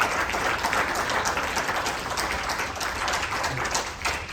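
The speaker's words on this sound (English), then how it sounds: "Can we give her a round of applause?" Audience applause after a presentation at a Holy Cross event, a continuous crowd clapping at even strength throughout, with no voices standing out.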